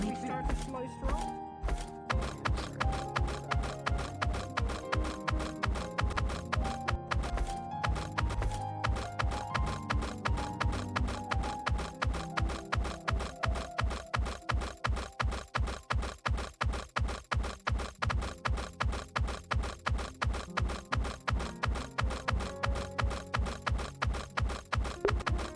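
Horse hooves clip-clopping on a slow stroll down the street, a steady, evenly spaced run of hard knocks that is close and distinct and carries on throughout.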